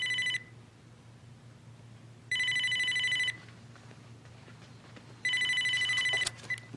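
A telephone rings in three loud bursts, each about a second long and separated by quiet pauses, in a scene from a Spanish-language horror film.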